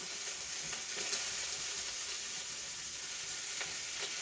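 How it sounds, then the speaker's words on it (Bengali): Prawns frying in hot oil for a pointed gourd and prawn dish: a faint, steady hiss and crackle of sizzling, continuous throughout with occasional small pops. "মাছটা লাল লাল করে ভাজা হয়ে গেছে"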